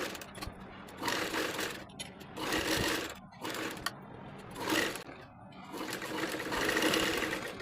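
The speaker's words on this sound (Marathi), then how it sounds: "त्याच्यावरती अस्तर ठेवून पूर्ण शिलाई मारून घ्यायची आहे" A sewing machine stitches a lining onto a Shubh Labh wall hanging in repeated close bursts of rapid mechanical whirring, with brief pauses between runs.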